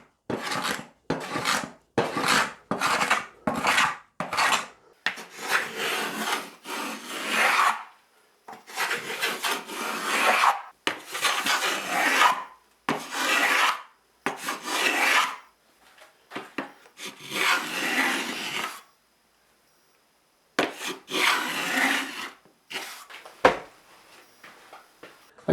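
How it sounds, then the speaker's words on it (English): Small block plane shaving a glued wooden guitar edge: repeated rasping strokes close up, a run of quick short passes and then longer sweeps, each stroke separated by brief silence. "just with a little block plane to just remove all the unevenness and all the excess glue"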